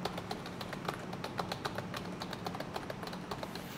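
Fast, even clicks of typing on a computer keyboard, recorded close through a LensGo KD95 podcast microphone. The keystrokes run continuously at a brisk pace over a faint low hum.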